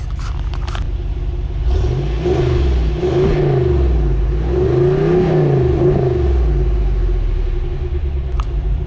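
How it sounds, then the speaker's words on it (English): A 2019 Ram 2500 Hemi truck's exhaust rumbles deep and loud as the engine is revved several times, rising and falling in pitch with no talking. "A little exhaust note for you real quick."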